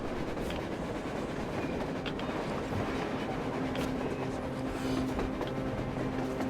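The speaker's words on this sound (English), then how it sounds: "A train! A damn train on the surface!" A train rolls along on the surface in the game Metro Exodus, a steady loud rumble of railcars with faint rhythmic clatter holding for several seconds, no voices over it.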